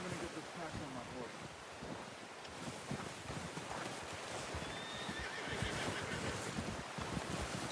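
A horse in Red Dead Redemption 2 whinnies over a continuous bed of wind noise, with faint hoof clip-clops nearby.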